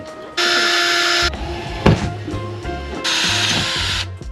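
A power drill whines in two loud bursts drilling through a van panel, separated by a sharp knock and quieter mechanical rattling, close by with no talking.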